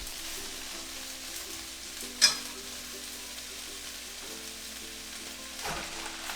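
Noodles go into a pan with partially cooked veggies and sizzle steadily, a soft continuous frying hiss with a faint hum beneath and a brief sharp clack of cooking chopsticks partway through.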